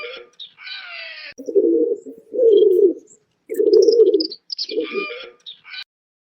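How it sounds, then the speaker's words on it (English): A pigeon coos in a few low, throaty bursts close to the mic, mixed with brief higher chirps and tweets at the start and end. "That's right. It's a pigeon."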